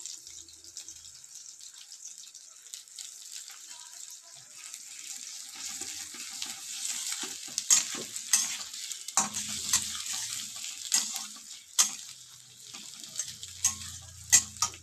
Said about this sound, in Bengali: যে তেলটা রয়েছে তেলটার ভেতরে আমি গোটা জিরে দিয়ে দেবো আর দিয়ে দেবো গ্রেট করে রাখা একটু আদা